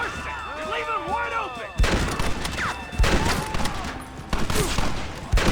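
Gunfire from a shootout in the video game Red Dead Redemption: repeated loud shots and blasts ring out in bursts, with shouting and musical tones layered underneath in a busy battle mix.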